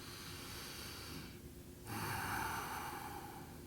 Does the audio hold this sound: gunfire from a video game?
no